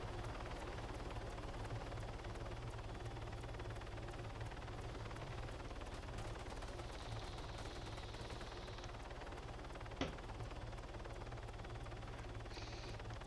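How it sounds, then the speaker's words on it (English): A steady helicopter rotor drone fills the scene in the video game Arma 3, with a sharp gunshot-like crack partway through. "If you can hear me over that loud-ass helicopter."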